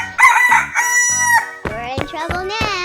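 Rooster crowing in a 3D animal slide video game, two loud, close cock-a-doodle-doo calls in quick succession with sharp clucking accents, clear and alone.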